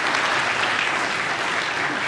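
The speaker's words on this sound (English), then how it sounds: "So give them a round of applause, all right?" A church congregation applauding baptism candidates during a Sunday service, a full, even burst of many people clapping, loud and continuous without any talk over it.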